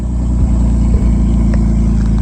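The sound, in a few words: straight-piped RB30 engine Nissan Patrol off-roading in bush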